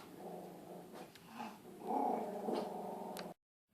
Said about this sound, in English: noisy dogs have shut up